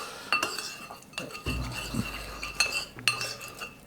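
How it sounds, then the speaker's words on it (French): A spoon stirs a soy sauce, honey and starch mixture in a bowl, with close, bright metallic clinks and scraping taps in an uneven rhythm and no voices. "Et on n'a plus qu'à mélanger."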